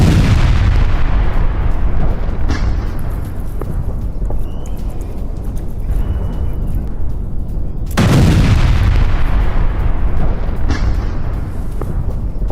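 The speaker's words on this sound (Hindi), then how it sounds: "रॉकेट हमले से गैस स्टेशन पर विस्फोट" Rocket attack on a gas station in news footage: loud, continuous rumbling explosions with two sharp blast onsets, booming through the whole stretch.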